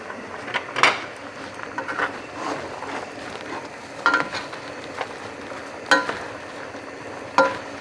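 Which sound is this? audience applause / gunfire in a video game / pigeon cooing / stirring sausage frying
stirring sausage frying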